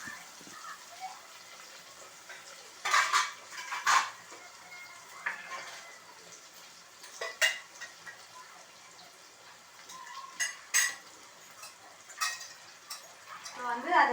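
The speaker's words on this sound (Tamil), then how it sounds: "கொஞ்சம் நல்லா மேஷாக வதங்கட்டும்." Onion and tomato sauté in a pan for a garlic-pepper fish curry, a quiet sizzle broken by intermittent louder stirring scrapes and knocks, with a voice talking in between.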